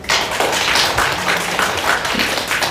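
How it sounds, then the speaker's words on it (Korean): Audience applause at an award ceremony for elderly-care support workers: dense, steady clapping from a crowd that fills the whole moment at an even loudness, with no voices over it. "큰 박수 부탁드릴게요"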